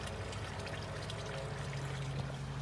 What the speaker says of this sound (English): Bit of a waterfall thing going on.